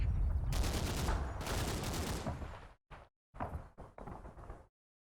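Vickers machine gun fire in the Combat Mission: Battle for Normandy video game comes as dense rattling bursts, first a long sustained stretch, then several shorter broken bursts before falling silent.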